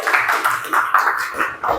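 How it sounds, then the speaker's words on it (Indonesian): Students in a junior high classroom at SMPN 40 Batam clapping for a classmate who answered correctly, a short burst of rhythmic group clapping, close and fairly loud. "tepuk tangan untuk temannya"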